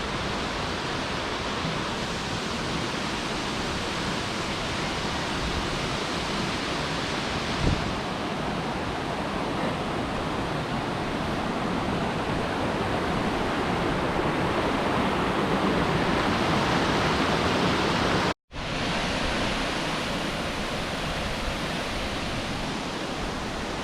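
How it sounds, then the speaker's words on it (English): El Salto del Nogal, the largest waterfall in Jalisco, Mexico, roaring as a dense, constant rush of falling water with wind buffeting the microphone, loud and unbroken apart from a brief dropout. "So here it is, the largest waterfall in Jalisco."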